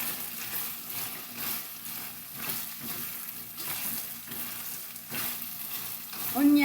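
Chicken adobo sizzles and crackles steadily in a pan, a continuous frying hiss with occasional stirring clinks and a brief louder burst near the end, no talking.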